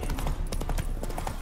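Horse hooves clip-clopping at a steady trot in The Witcher 3 video game, a continuous close rhythm of hoofbeats with a possible faint whinny and a soft voice in the background.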